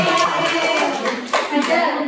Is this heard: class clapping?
yes